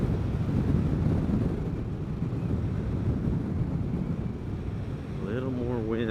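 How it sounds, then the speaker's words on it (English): Steady roaring wind rush buffets a helmet on a Vespa GTS 300 scooter at speed, a dense low rumble running throughout, with a voice talking briefly near the end. "A little more wind right there."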